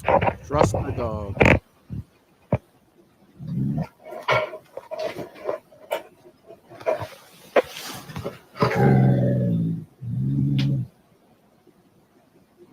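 A dog growls low and rough in a paranormal recording, with short sharp barks early on and sustained rumbling growls near the end, mixed with voices talking.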